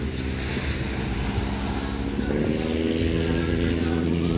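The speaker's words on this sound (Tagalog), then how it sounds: "Dami pang parating na bangka" Steady rumble of a boat motor mixed with waves and wind noise at Port Barton, continuous and moderately loud, a passing engine growing slightly stronger partway through as more boats arrive.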